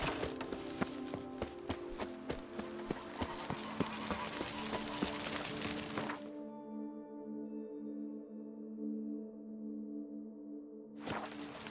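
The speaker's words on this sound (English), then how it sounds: "Even a horse drops if you ride it at a constant gallop." Horse galloping in the video game The Witcher 3, a steady rhythm of hoofbeats over a game music bed for about six seconds before the scene cuts to a quiet tonal drone.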